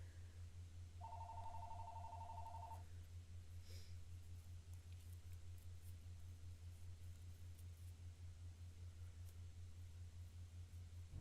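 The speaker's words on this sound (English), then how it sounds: "phone's ringing, I don't feel like getting it" A telephone bell rings in a game setting, a short trilling burst heard once near the start over a steady low hum and background noise, then fades into the hum with no further rings; no talking.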